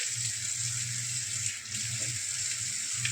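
Tap water runs in a steady, fairly loud stream into a pressure cooker, a continuous gushing hiss with a low hum beneath, no voices.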